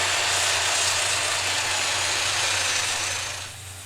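A power sander hums and whirs steadily against a wooden bowl being turned by hand, a continuous close mechanical drone that fades slightly at the end.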